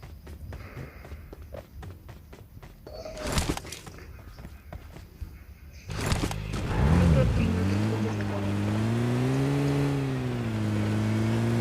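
A motorcycle engine in a video game starts up after a few seconds of footsteps and clatter, then drones steadily and loudly, its pitch rising and levelling as it accelerates.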